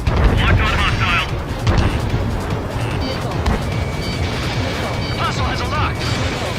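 Missile launches and explosions in the jet-combat video game Ace Combat 7, during a raid on Anchorhead: loud, continuous roaring blasts and rumbling booms fill the whole stretch, with radio chatter and voices running through it.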